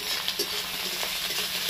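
Green peas tossed into browned onion in hot oil in a kadai give a steady close sizzle and frying hiss, with light stirring and soft spattering pops throughout.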